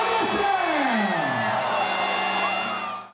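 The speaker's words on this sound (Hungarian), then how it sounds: "Az új évet hangos ovációval köszöntötte a több ezres tömeg." A crowd of several thousand at a New Year's Eve celebration in Debrecen cheers loudly after the countdown, a dense sustained roar of shouts and whoops that fades out at the end.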